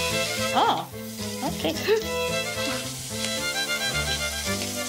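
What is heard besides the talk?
steak frying in pan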